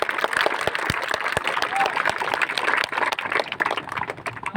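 A crowd at a Rangpur, Bangladesh cricket gathering applauds the district commissioner, a dense and steady patter of many hands with sharp individual claps and voices mixed in throughout.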